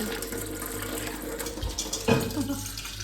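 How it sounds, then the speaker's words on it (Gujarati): Tap water runs from a connection fed by an overhead storage tank, making a faint, steady flowing hiss throughout with a slightly louder splash near the end. "આ નળનું પાણી છે, આ ઉપરના ટાંકાનું કનેક્શન છે"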